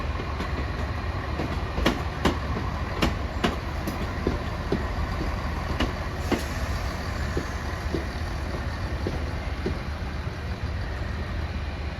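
An East Midlands Railway train at Crewe station rumbles steadily at moderate distance, with a scatter of sharp metallic clicks and clanks from wheels and couplings over a continuous low drone.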